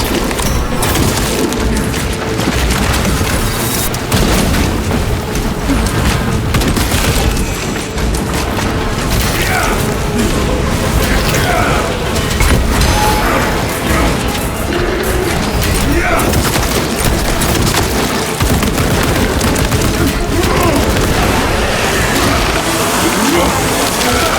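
Dense, loud battle noise from the Warhammer 40k Space Marine video game: repeated explosions, crashing debris and rumbling from a collapsing transport tunnel, with gunfire-like crackle and a voice heard throughout.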